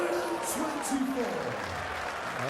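Audience applause at a PDC Premier League darts semi-final, a steady broad wash of clapping filling the whole stretch, with a commentator's voice talking over it.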